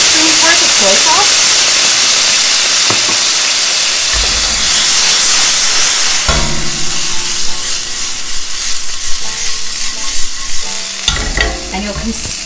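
Soy sauce hitting crispy browned cumin tofu in a hot pan, a loud, dense sizzle and hiss that flares up partway through, with spatula scrapes and stirring underneath.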